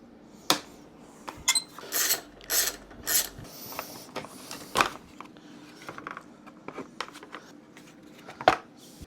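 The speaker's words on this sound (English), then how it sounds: "So I've undone about 6 different bolts and fasteners" Bolts and fasteners being undone on a Yamaha MT07 motorcycle: a string of sharp metallic clicks, ratcheting and rattles in uneven bursts, close by, with no talking.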